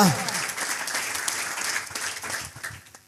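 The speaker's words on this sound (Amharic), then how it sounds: "ከዚህ በላይ እልልታ ጭብጨባ" A church congregation applauding and ululating, dense close clapping with high trilling voices that holds steady for a few seconds before tapering off.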